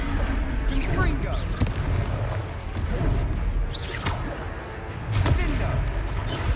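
Repeated fiery blasts and crashes from a Confringo fire spell in the Hogwarts Legacy video game, several booming impacts across the stretch over dense battle noise, with voices speaking at times.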